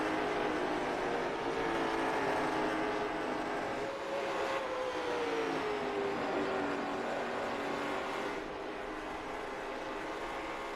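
Race cars run on track in the iRacing video game, a continuous engine drone with a pitch that slides and shifts as cars pass, moderately quiet and steady with no talk.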